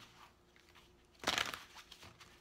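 Tarot cards are shuffled in one short, crisp riffle burst midway, quiet and close, with faint rustling before and after and no speech.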